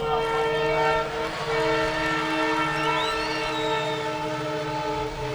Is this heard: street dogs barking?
no